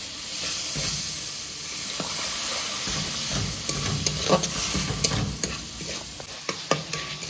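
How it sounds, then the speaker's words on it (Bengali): Ground spices and onion for a mutton keema dish sizzling in a pan with a little water while being stirred, a steady close hiss with scraping strokes of the spoon, louder clicks toward the end, no talking. "গুঁড়ো মশলাগুলো দেওয়ার সাথে সাথে সামান্য জল দিয়ে দিয়ে কষতে থাকবো"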